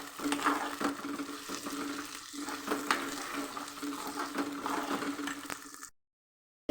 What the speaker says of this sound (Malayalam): നമ്മൾ ഇതിനകത്ത് എല്ലാം കൂടി ഇട്ട് വഴറ്റുവാണ് കേട്ടോ